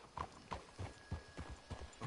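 Horse hooves clip-clop in Red Dead Redemption 2, a steady, evenly paced trot of several strikes, fairly quiet and close, with no talking.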